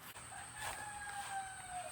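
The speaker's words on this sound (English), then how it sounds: "Oh, we caught one of the roosters crowing." A rooster crowing on a small homestead, a single drawn-out crow of about two seconds at a moderate distance, somewhat thin and hoarse, over quiet outdoor background.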